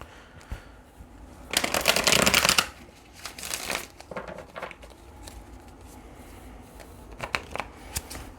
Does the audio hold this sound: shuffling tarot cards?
yes